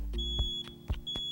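Smoke detector sounding its test beep: a steady high-pitched electronic tone held across the clip, with several low thumps and clicks from handling the unit, loud and close, no talk.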